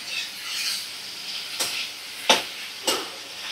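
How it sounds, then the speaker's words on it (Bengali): Boiled soybeans and potatoes sautéed with spices in a pan: a soft, steady sizzle of frying runs throughout, with three sharp scraping stirs of a spatula against the pan near the end. "ভালো করে সোয়াবিন আলু সেদ্ধ কষিয়ে নেব"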